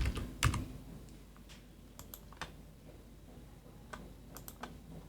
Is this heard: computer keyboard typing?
yes